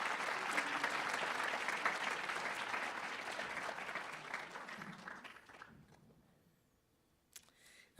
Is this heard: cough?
no